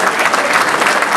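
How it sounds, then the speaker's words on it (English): Audience applause for youth cricketers at a cricket banquet: a brief, full burst of continuous clapping from a crowd filling the room. "give a big round of applause to all our NCCA youth cricketers"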